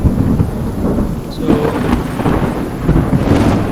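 Thunderstorm ambience in an Unreal Engine 5 game audio demo, with steady rain and low rumbling thunder filling the whole stretch at a loud, constant level, and a brief spoken word near the start.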